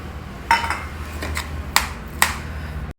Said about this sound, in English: So just mash it with the back of a spoon